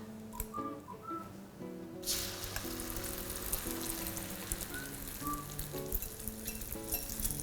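Thai stuffed omelette seasoned with sliced bird's eye chilies dropped into hot oil, bursting into a loud, steady crackling sizzle that continues throughout, with a faint utensil clink and some quiet background music.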